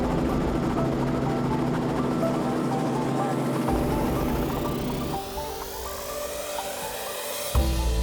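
Helicopter carrying a heli fishing tour over the Northern Territory from the coast toward a gorge, its steady loud engine and rotor drone heard from inside the cabin, continuous throughout with a slight shift in tone partway.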